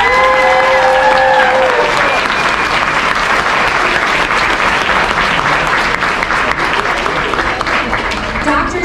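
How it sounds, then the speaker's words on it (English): Kindergarten graduation audience gives the teachers a loud, close round of applause with some cheering voices early on, the clapping staying dense and energetic throughout. "So if we could give our teachers a big round of applause."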